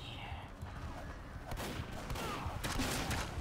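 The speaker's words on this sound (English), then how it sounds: "I know there's a sentry gun there." Gunfire from a sentry gun in a video game, dense, rapid bursts that swell louder in the second half, with steady game noise underneath.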